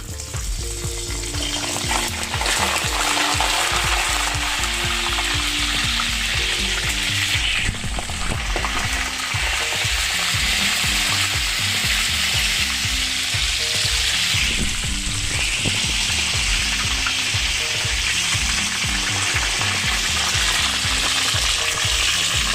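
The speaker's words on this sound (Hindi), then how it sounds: "अब मैं इसको फ्राई करूँगी दोनों साइड से।" Kashmiri chicken kebabs made from minced chicken with spices fry in a pan, a steady loud sizzle running throughout with stirring and scraping noises, background music underneath and no talking.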